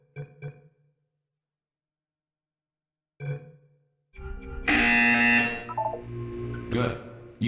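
A few short speech-like sounds, then a loud harsh electronic buzzer in the video game Portal 2 blares for a few seconds, close and abrupt.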